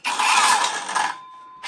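A cordless brushless saw running on a Makita-compatible battery whirs at full speed with a bright, dense buzz, then cuts off and winds down to a fading whine before briefly spinning up again.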